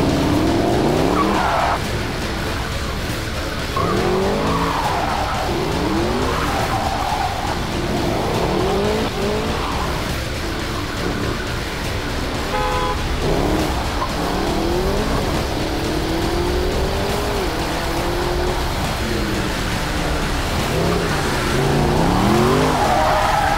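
Car spinning out in a racing game, with tyres squealing and skidding in repeated sweeping swoops over a continuous loud engine drone, with no talking.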